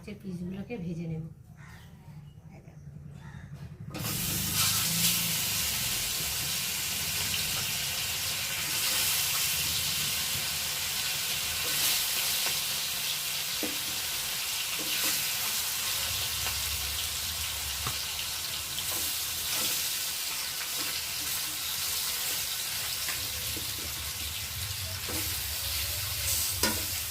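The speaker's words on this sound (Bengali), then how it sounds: "তাওয়াতে তেল দিয়েছি, তেলটা গরম হয়ে গেছে। আর এখন আমি একে একে মাছের পিসগুলোকে ভেজে নেব।" Fish pieces fry in hot oil on a tawa: after a quieter few seconds, a loud, steady, close-up sizzle takes over and runs continuously to the end, with a voice faintly present at times.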